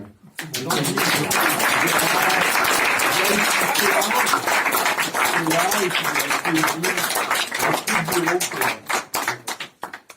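Audience applause for a mayor's colleagues at a neighbourhood community centre event in Paris's 19th arrondissement, a dense sustained roomful of clapping lasting about ten seconds, with voices underneath, tapering off near the end.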